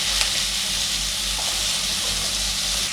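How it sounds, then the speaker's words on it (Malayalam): Two medium chopped onions hit a pan of butter with a little salt and sizzle steadily, a loud, even frying hiss that holds without a break. "ഇനി ഇതിലേക്ക് 2 മീഡിയം ഉള്ളി അരിഞ്ഞു വെച്ചത് സവാള ഇട്ട് കൊടുക്കുകയാണ്."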